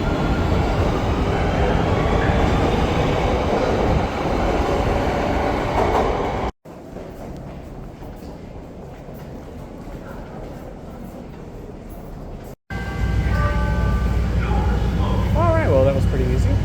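A Chicago Red Line subway train rumbles loudly and continuously, with a quieter stretch in the middle and a squeal of wheels near the end, while people talk over it.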